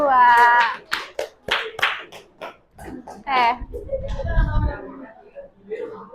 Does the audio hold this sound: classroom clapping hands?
yes